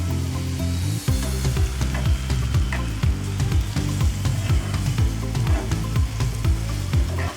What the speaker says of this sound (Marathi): आता यामध्ये घालूया 1 चमचा भरून आलं लसणाची पेस्ट आणि लसणाचा कच्चा वास जाईपर्यंत चांगलं परतवून घेऊया